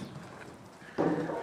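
Horse hooves clip-clop as the horses run, a faint scuffle that turns into a louder burst of hoofbeats near the end.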